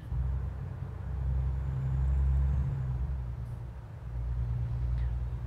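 A heavy truck engine in the video game American Truck Simulator drones low and steady, its deep rumble swelling and easing a little, with no voices.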